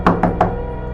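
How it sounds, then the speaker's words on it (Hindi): Three sharp knocks in quick, even succession, loud and close, with a ringing tail fading after them, from a wooden almirah at midnight in a Banaras horror story; no one speaks over them. "तभी उसे किसी के खटखटाने की आवाज सुनाई दी।"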